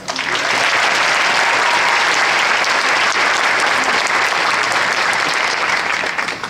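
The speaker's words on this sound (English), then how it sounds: "Please join me in welcoming our wonderful commencement speaker, Luis Venez." A large audience at a college commencement ceremony claps continuously in a dense, steady wash of applause, loud and full throughout, with no speech.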